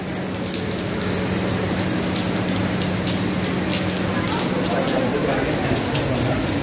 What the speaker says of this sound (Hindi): बहुत देर बाद यूएई की दुबई के अंदर इस तरह की बारिश हो रही है